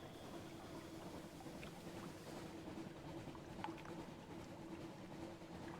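A small boat drifts across open sea in the video game Sunless Sea, with a steady low engine drone under soft wind and water wash, faint and continuous, with no voices.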